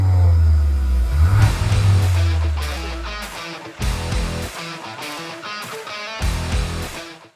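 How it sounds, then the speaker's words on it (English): A deep, rumbling exhaust growl from a Skoda Octavia vRS's dual exhausts dominates the first few seconds, then fades as brighter music-like bursts take over. "these dual exhaust vents. They look absolutely smashing, and as we said earlier, they growl too."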